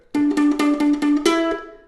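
Plucked ukulele notes picking out a short melody, about seven bright strums in quick succession, the last note ringing out and fading.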